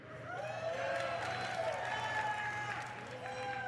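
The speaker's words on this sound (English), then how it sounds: "Please cheer if you want to see Absolution in the Arena." A BlizzCon convention crowd cheers during a Hearthstone card vote, a sustained roar of voices, whoops and scattered clapping filling a large hall, with high yells rising and falling over the steady din.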